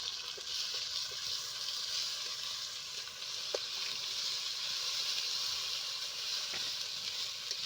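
Spice paste of chilli, onion, ginger and garlic with potatoes sizzles steadily in a wok for several seconds, a continuous close frying hiss with occasional soft stirring clicks and no talking.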